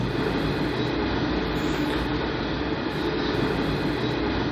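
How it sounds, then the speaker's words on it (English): A loud train rumbles past in a steady, broad roar that holds at an even level for several seconds, with faint higher rattling on top. No voices are heard. "that train really that loud?"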